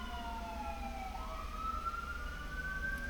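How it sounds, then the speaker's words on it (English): Ambulance or fire truck sirens pass by outdoors, one wailing tone sliding upward while another fades, moderately distant over a steady traffic rumble. "I'm gonna let these ambulance or fire trucks pass."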